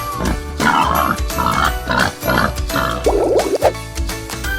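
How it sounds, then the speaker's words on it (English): A toy boar's recorded grunting sound effect plays in a series of short, snorty, pig-like grunts, loud and close, with a quick burst of rapid squealing grunts near the end and no talking. "Boar."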